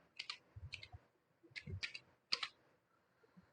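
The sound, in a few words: typing on a computer keyboard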